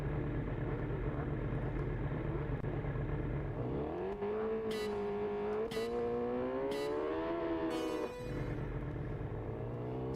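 Kawasaki racing motorcycle engine in TT Isle of Man 3, a steady idle drone that climbs into rising revs and held high-pitched whine, with a few sharp bursts over the top before it settles back down.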